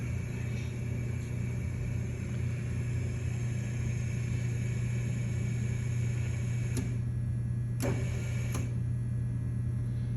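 A Lobo 25-inch double-sided helical planer adjusting its cutting depth, a constant low machine hum with a few sharp clicks near the end, steady and close.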